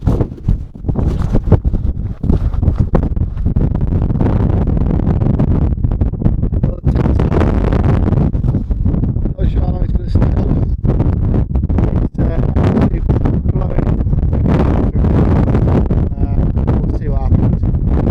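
Strong wind gusts across a hillside at Winnats Pass in the Peak District, roaring and buffeting the microphone loudly and almost continuously. Occasional rustling and handling sounds come through the gusts.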